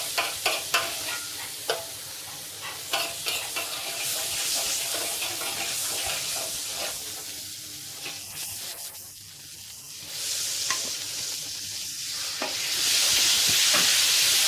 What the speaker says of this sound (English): We add the garlic, fry the garlic, and then we add the tomato that I prepared.